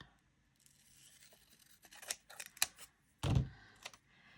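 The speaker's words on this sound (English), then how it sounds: "we're just going to cut it in half" Scissors cut a sheet of paper in half for a skinny mini planner, giving a few crisp snips and a louder ripping slice near the end, close and quiet with no talking.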